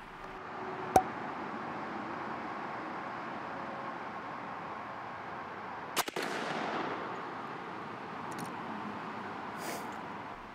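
A 28 gauge shotgun firing TSS shot at a turkey target outdoors, heard as one sharp loud blast early on and a second report later, with steady wind or background noise between them.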